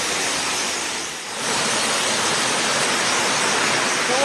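Waterfall on Siquijor island in the Philippines, a loud, constant hiss of falling and rushing water filling the whole clip, dipping briefly near the start before resuming at full strength.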